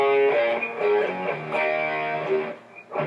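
Electric guitar plays a riff, a distorted, steady melodic line that follows the bass part, up close, with no voices.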